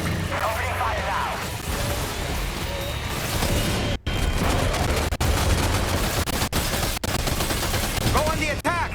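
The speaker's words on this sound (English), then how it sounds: "Opening fire now." Gunfire in the video game Death Stranding 2 rattles in dense, loud bursts almost without pause, with a sharp cut-off and several abrupt breaks, while game voices talk over the shooting.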